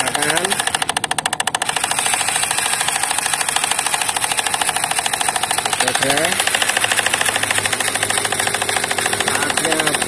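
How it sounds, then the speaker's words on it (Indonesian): A miniature rotary tiller engine on a model farm machine runs at a steady, buzzing idle, a loud mechanical drone that holds evenly for several seconds. "rotari kita nyalakan."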